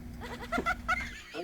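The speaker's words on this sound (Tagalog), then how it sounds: "Ang kambing." A goat bleats a few times in short wavering calls, fairly faint and close, mixed in with people talking over a steady low hum.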